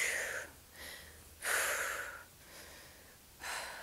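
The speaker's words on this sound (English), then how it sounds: "you've got to control that breathing here" Heavy, rhythmic breathing during a HIIT arms, abs and cardio workout: several loud, close, forceful breaths, each exhale rushing out in turn with short pauses between, and no speech.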